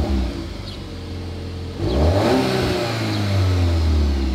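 A newly bought car's cold engine idles, then revs up hard with a rising roar around the midpoint before settling into a loud, uneven high idle, close by.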